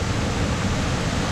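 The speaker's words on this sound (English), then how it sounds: "come check out the top of these waterfalls" Broad, steady roar of a large waterfall in Algonquin Park, heard from close by at the top of the falls, loud and continuous with no voices.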